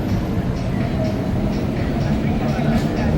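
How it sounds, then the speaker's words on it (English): Train passing through Bangkok, a steady loud rumbling roar of rail cars rolling by nearby, continuous throughout with faint rhythmic clatter and city ambience. "Train coming through."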